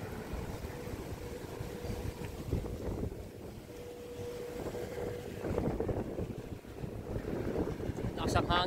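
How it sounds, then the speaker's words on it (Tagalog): Strong wind buffets the microphone outdoors near water, with a rumbling low roar and gusts that swell and fade, and a faint boat-like drone underneath. "Lakas ang hangin."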